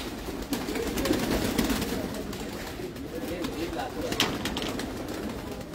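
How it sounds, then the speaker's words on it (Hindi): Pigeons coo and stir around a rooftop pigeon loft, a soft continuous murmur of birds with scattered wing and movement noises, steady at moderate distance. "उस्ताद सुहेल अंसार खान साहब की छत उनके कबूतर आपको दिखा रहे हैं हम"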